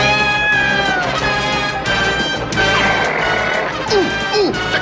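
A cat getting away with a loud smash and crash, dense clattering noise throughout with meow-like tonal sweeps near the end, close and loud.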